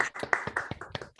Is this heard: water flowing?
no